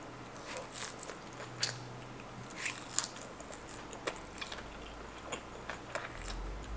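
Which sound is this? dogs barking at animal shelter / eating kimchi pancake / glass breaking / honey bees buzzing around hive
eating kimchi pancake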